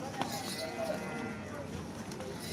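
A cow lows at a busy livestock market amid constant crowd murmur and background chatter, the animal sound mixed into the general din.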